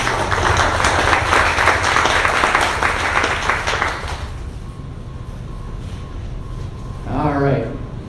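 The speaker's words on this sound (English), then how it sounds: "let's give them a big round of applause" Audience applause at a small business gathering. A dense burst of clapping lasts about four seconds, then gives way to a low room hum and a short spoken voice.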